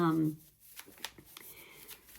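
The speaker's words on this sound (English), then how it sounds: "shuffled the cards, but I'm going to do it again" Cards riffle and rub in quick bursts after a brief voice, crisp and close.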